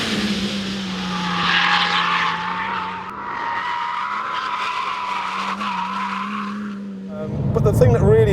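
A Porsche 911 GT2 RS turbocharged engine accelerating hard, a loud, steady engine tone rising in pitch with turbo whine, then a sharp burst of tire squeal near the end.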